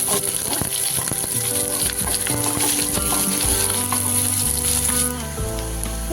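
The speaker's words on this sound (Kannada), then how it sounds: "ಹೀಗೆ ಫ್ರೈ ಮಾಡ್ಕೊಳ್ಳೋಣ ಎಣ್ಣೆಯಲ್ಲಿ" Chopped onion and green chili fry in hot oil with curry leaves for a rasam, a loud, continuous close sizzle and crackle that stays steady throughout, with no voices.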